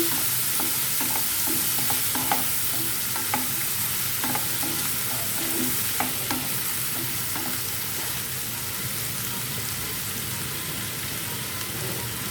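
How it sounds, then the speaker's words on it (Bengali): Chopped onion and garlic fry in a pan for hilsa fish bhuna, giving a continuous loud sizzle with soft, regular spatula taps and stirs throughout and no voices. "আর একটা রসুন কেটে নিয়েছি আর হচ্ছে পেঁয়াজ কাটা আছে এক কাপ পরিমাণ দিয়ে দিচ্ছি দিয়ে আমি এটাকে ভেজে নিচ্ছি"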